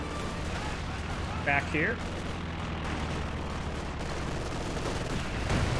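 An artillery barrage and gunfire rumble continuously through a Company of Heroes 2 battle, steady distant booms and bursts under a commentator's talk.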